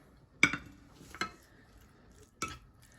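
A spoon clinks against a pot three times as salt is mixed into milk rice porridge. The sharp, brief metallic scrapes are spaced apart and are heard close by, without talking.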